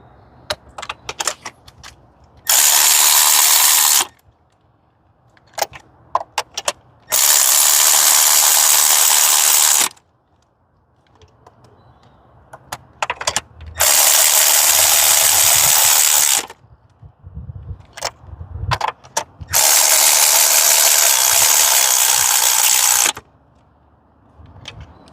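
Ratchet tightening spark plugs on a Hyundai Sonata during a tune-up, heard as four loud sustained bursts of rapid clicking separated by quieter clinks and handling noise, with no talk.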